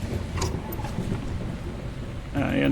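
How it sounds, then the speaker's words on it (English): Thunder rumbles low and steady in the video game Gone Home, a dull rolling boom with rain-like hiss that swells louder near the end. "Oh, just the thunder."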